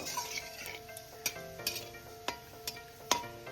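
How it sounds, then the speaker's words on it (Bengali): Black cumin seeds and dry red chillies fry in a pan with a soft, faint sizzle, punctuated by sharp clinks and taps of a spoon or spatula against the metal at an irregular rhythm. "এবার আমি কালো জিরে আর শুকনো লঙ্কাটা একটু ভেজে নেব"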